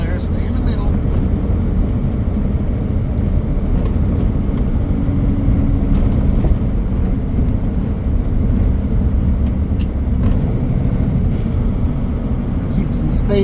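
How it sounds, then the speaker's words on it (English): A vehicle engine on the Dalton Highway, shifting gears, makes a loud, steady, close low rumble with continuous road noise throughout. "always shifting gears on this road. Always shifting gears."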